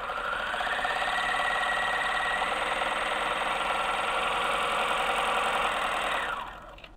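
A 4-thread overlock serger with its upper looper tension nearly slack runs fabric through in one steady, high-speed buzzing whir, close and alone, winding down abruptly at the end.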